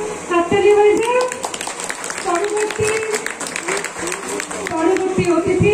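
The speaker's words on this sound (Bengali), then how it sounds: "ম্যাডামের জন্য একটু হাততালি হয়ে যাক।" An audience claps for a guest at an inauguration ceremony for a donated Braille embosser. Scattered applause runs under someone speaking into a microphone throughout.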